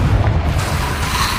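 A Bombarda spell explosion in the video game Hogwarts Legacy, a single loud, deep booming blast that rumbles on briefly, close and dominant, with no speech.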